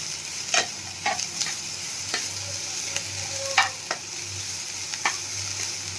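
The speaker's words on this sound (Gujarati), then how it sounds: "હવે આપણે આને 1 મિનિટ ખાલી સાંતળવાનું છે." Capsicum and tomato sauté in a pan over a low flame, giving a continuous soft sizzle with intermittent scraping strokes of a spoon, close and steady, with no talking.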